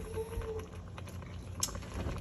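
Lamb rogan josh with serrano and chili peppers stewing in a pot, giving a steady low bubbling simmer with soft pops and a brief sharper spatter near the end, close and alone with no talk.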